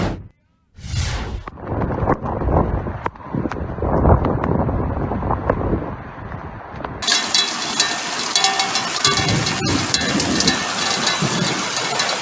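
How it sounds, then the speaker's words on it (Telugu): Heavy unseasonal rain in Telangana pours as a steady broadband roar. Wind buffets the microphone, and the downpour grows louder and denser partway through. "భారీ వర్షం పడింది"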